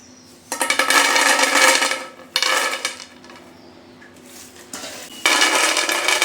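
Raw peanuts dry-roasting in a kadhai, stirred in three loud bursts of close, dense rattling and scraping, with quieter shuffling between the bursts and no talking.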